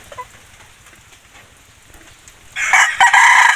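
A breeder rooster crows loudly and close by, a single sustained cock-a-doodle-doo starting after a quiet stretch of faint background clucking and farmyard noise.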